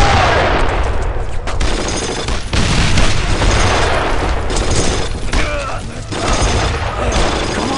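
Battle gunfire in the World War II shooter Brothers In Arms, dense rapid bursts of rifle and machine-gun fire with booms, loud and continuous, with shouting voices mixed in.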